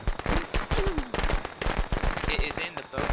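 Firecrackers in the Friday the 13th video game crackle in rapid, loud bursts of popping that fill the stretch, mixed with voices talking over them.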